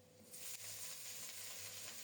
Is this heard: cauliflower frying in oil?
yes